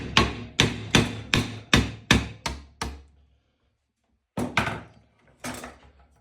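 A hammer strikes a chisel wedged between the magnet and plate of an 18-inch woofer, eight sharp metallic knocks in a quick, slightly slowing series, then a pause and two more hits, close and alone.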